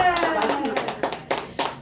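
Congregation clapping during a Korean church sermon, a run of hand claps that turns into rhythmic beats under a speaking voice.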